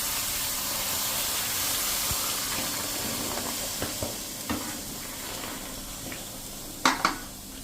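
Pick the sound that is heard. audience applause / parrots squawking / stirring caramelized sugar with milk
stirring caramelized sugar with milk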